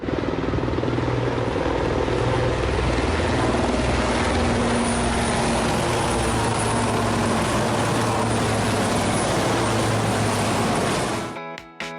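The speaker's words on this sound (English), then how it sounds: "That was the sound of a formation of Puma helicopters from RAF Benson" A formation of RAF Puma helicopters thunders overhead with loud, continuous rotor chop and engine roar, holding steady before cutting off abruptly at the end.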